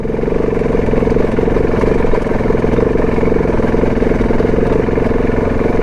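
A solo motorcycle on the Big Bend Texas backcountry route, Black Gap Road, runs with a loud, steady engine drone and some clatter as it shifts into second gear.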